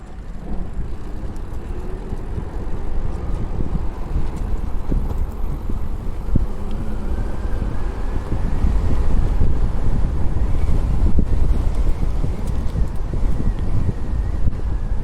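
Strong outdoor wind gusts buffet the microphone beside an e-bike, a loud continuous low rumble that swells and eases without a break.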